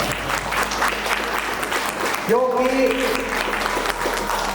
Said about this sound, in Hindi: इसके नाम से एक बार जोरदार आप लोग ताली बजाएं